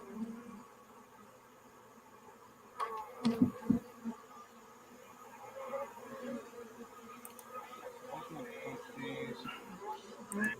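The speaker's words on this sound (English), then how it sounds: "Still a ton of bees inside here." A steady honey bee buzz around a hive hums throughout, dense and close, with a few louder bumps and knocks near the start as bees are bumped in; no talking.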